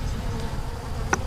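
Honeybees buzz steadily and close during a dusk hive inspection of a weak nuc, a continuous insect drone with a brief sharper tone near the end.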